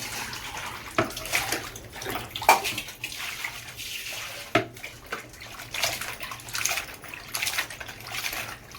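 Fish being washed by hand in water for a Mangalore-style fry, with splashing, sloshing and occasional sharp knocks against a vessel, close and moderately loud with no talking.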